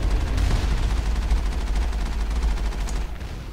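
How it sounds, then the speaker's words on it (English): An Alliance heavy turret in the video game Mass Effect fires a loud, sustained stream of rapid gunfire that runs without pause, easing slightly near the end. "Oh crap, I'm getting shot at."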